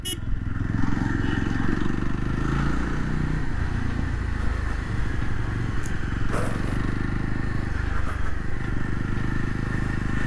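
A 2022 Yezdi Roadster motorcycle being ridden on the road, its engine droning loud and close with rumbling and some clatter, wind noise over it throughout.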